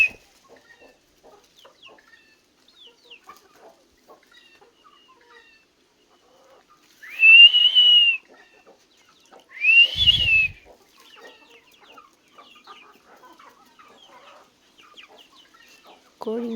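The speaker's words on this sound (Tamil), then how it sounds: "பாருங்கள் கோழிங்க எப்படி வருதுன்னு பாருங்கள்." Chickens coming to a feed of soaked rice give two short, clear clucking calls a few seconds apart, moderately close, against a quiet background with faint scattered small sounds and no talk.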